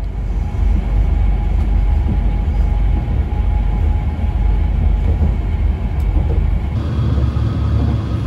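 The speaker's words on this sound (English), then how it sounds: "We're on the train, we've made it." Interior of a French passenger train under way: a constant loud rumbling and rattling roar from the wheels and carriage, steady throughout with a slight change near the end, no voices.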